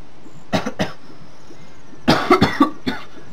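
Someone coughs in close, loud bursts, first a short cluster of three, then after a pause a harsher run of several coughs and a final lighter one.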